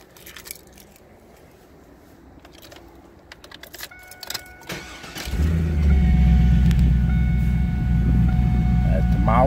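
An engine starts up after some handling and clicking noises and settles into a steady, loud idle rumble that continues to the end.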